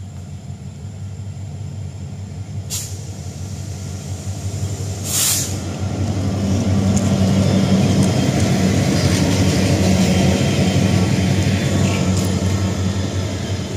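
A Babaranjang coal freight train in Indonesia, held and queued after rail subsidence at Gilas-Sepancar, rumbles low and steadily, swelling louder midway, with two brief sharp air hisses early on.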